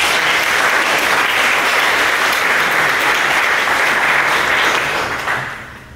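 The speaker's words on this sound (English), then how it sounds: "You have a round of applause for..." Steady, dense audience applause fills a conference hall after a technical talk on coreboot and UEFI booting, loud and sustained for several seconds before tapering off at the end, with no voices over it.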